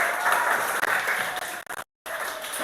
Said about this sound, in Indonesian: Tepuk tangan dong untuk semuanya.